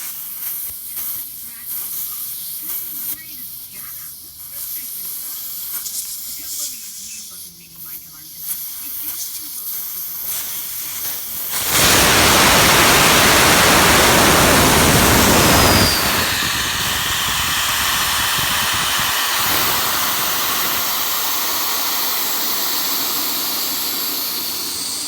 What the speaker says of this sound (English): let's remove the valve core and get all the air out of this tyre